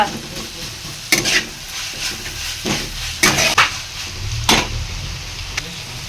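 Ginger garlic paste frying in a pan gives a steady sizzle and hiss, broken by sharp scraping clatters as a spoon stirs and knocks against the pan several times.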